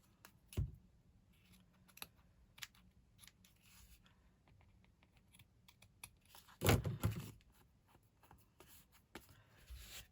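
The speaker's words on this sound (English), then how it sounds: "I'm going to cut it down a little bit." Scissors snip through craft paper in a few close, crisp cuts, separated by quiet pauses and light handling noises.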